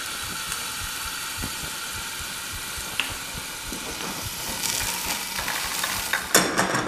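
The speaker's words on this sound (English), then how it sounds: "adding a half cup of white wine into the pan and putting a lid over it" Potatoes poaching in half a cup of white wine in a lidded pan give a steady, moderate sizzle and simmer with faint clinks and stirring noises, louder bursts near the end.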